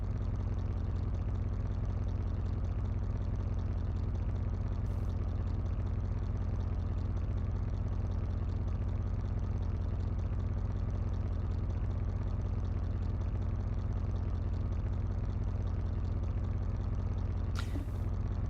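Steady, loud engine drone of a drag-built car in Car Mechanic Simulator 2021, holding a constant mid-range hum with little change in pitch and no talk.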